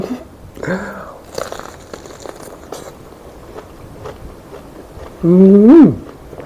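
Raw Hokkaido sweet corn bitten into, with a few close crunchy bites and chewing and some rustling, followed by a brief loud vocal sound at the end.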